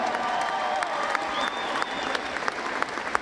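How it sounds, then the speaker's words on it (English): Crowd applause in a gym as the 2022 National Player of the Year is introduced before a Hope vs. Alma NCAA Division III women's basketball game, steady clapping and scattered cheers throughout, with faint talk beneath. "a round of applause for the 2022 National Player of the Year, number 20, Kennedy Schoonval."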